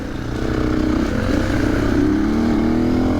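A dirt bike engine revs loud and close in a video game, holding a buzzing, rising drone for a few seconds with no speech over it.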